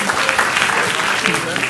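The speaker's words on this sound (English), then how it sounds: "Round of applause" An audience at a London writing workshop gives a round of applause, a continuous wash of many hands clapping at an even level for the whole stretch, fairly close and full.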